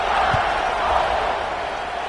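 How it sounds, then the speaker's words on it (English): A football stadium crowd at a Texas at Alabama game keeps up a steady, dense roar of buzzing voices after a score, with no single voice standing out. "this crowd is buzzing after that last score"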